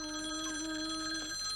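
A telephone bell rings steadily in a 1992 action-comedy movie scene, a sustained electronic trill at moderate level that cuts off near the end, with no voices.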